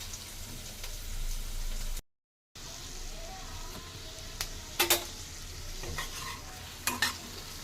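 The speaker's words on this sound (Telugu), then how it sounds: "దొండకాయలో ఉల్లిపాయ వేసానండి, ఇది వేగాలి" Ivy gourd and onion fry in a pan with a steady sizzle and stirring, with a short silent gap and a few sharp scraping clatters of a utensil against the pan near the end.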